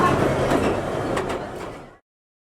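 A London train in motion rumbles and rattles with steady clattering and squeals from inside the carriage, loud and continuous before cutting off abruptly.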